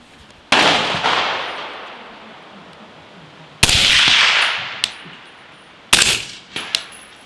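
Suppressed supersonic 300 Blackout rifle shots, three sharp loud cracks spaced a few seconds apart, each with a hissing decay and a faint metallic ping afterward, outdoors with no talking.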